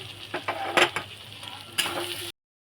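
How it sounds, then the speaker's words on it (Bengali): Potatoes with ground spice paste and turmeric fry in a pan. A spoon scrapes and stirs in several quick strokes over a continuous sizzle, and then the sound cuts off abruptly. "নেওয়া আলুগুলো দিয়ে একটু কষিয়ে নেবো ভালো করে"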